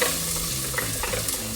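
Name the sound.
onions sizzling in hot oil in a pan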